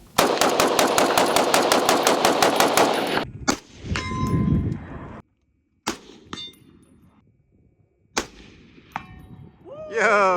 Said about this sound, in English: we could do a little bit of night vision shooting with the SOCOM 16